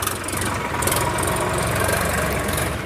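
A used 2011 three-cylinder 39 HP tractor idles nearby at a used tractor market, giving a steady, loud, low rumbling chug that holds even throughout.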